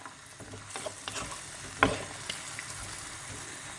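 Pork red curry with eggplant bubbles and simmers in a pot, making a faint, soft crackling patter with one brief louder pop and no talking.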